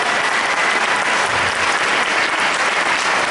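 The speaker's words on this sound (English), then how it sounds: "Everyone clap for Frank." Dense, loud applause from a convention audience at an opening ceremony, continuous clapping from a large crowd throughout.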